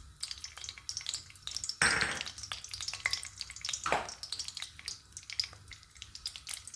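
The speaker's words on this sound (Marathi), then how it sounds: "मोहरी चांगली कडकडू देऊ. मोहरी कडकडत आहे." Mustard seeds crackle and pop in hot oil for a Marathi-style tempering of chavisht dangar bhaji, with a steady close sizzle broken by sharper bursts of spattering, no talk.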